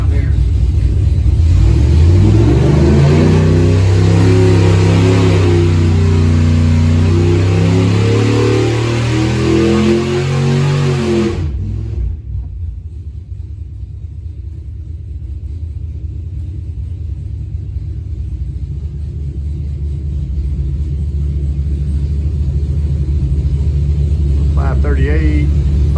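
A Mopar 440 V8 roars on a dyno while still installed in the car. It revs hard with a climbing pitch for about eleven seconds, then the throttle snaps shut and it settles into a low rumbling idle.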